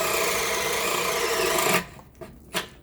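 Hitachi drill running in high gear with a 1-inch bit, a loud, steady whining grind that stops abruptly after nearly two seconds, followed by a couple of faint knocks.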